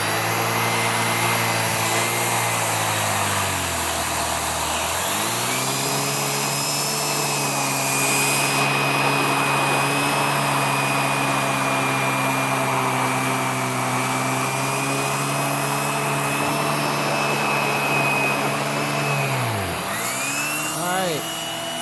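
A Hoover React Professional Pet vacuum drones loudly as it cleans pet hair off a couch, its motor pitch dropping and rising again as the head is pressed and lifted, with brushing rubs throughout.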